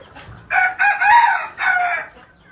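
A rooster crows nearby in an enclosed desi chicken farm, one loud drawn-out cock-a-doodle-doo in several rising and falling segments, with faint background noise.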